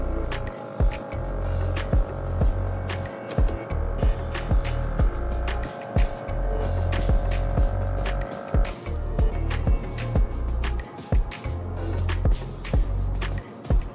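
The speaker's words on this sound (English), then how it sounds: "It actually tells the machine to start brewing your" Espresso machine brewing with a steady pump hum and rhythmic throbbing pulses, close and continuous, the tone shifting partway through as the brew progresses.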